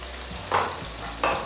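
Chicken feet dropped into hot frying masala, giving a steady close sizzle with two brief bursts of stirring and frying noise, no voices.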